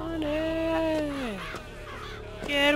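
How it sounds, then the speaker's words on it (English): Crows in BioShock Infinite give a few loud, drawn-out harsh caws that slide downward in pitch, close and clear over faint game ambience. "Crow."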